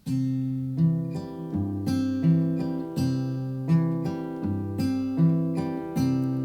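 An acoustic guitar is fingerpicked in a steady repeating pattern, bass notes alternating with a finger plucking the third string and other upper strings, clear and close.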